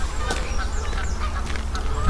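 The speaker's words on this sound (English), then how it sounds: "Canada geese everywhere again." Canada geese honk repeatedly amid steady outdoor noise at a wildlife centre, their calls moderately close and overlapping through a brief stretch.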